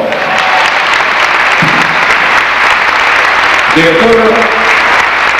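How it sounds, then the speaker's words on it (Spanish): Loud audience applause for the tuna group of Universidad San Cristóbal de Huamanga in Ayacucho, continuous clapping throughout with a voice speaking over it briefly. "El aplauso de Quipa para la tuna de la Universidad San Cristóbal de Huamanga,"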